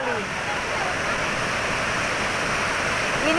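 Bihewa waterfall near Nabire, Papua, gives a continuous loud broadband roar of falling water, close and steady throughout, with faint voices mixed in.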